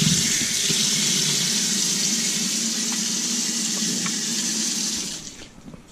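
Fish fillets being wetted under a steady stream of running tap water in a kitchen sink, a continuous close splashing hiss that tapers off as the flow stops near the end.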